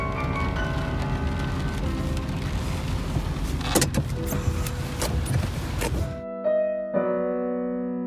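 A van rolls out of a gated parking lot, its engine a steady close rumble with scattered thuds and clunks, then the motor cuts away near the end, leaving a quieter tonal hum.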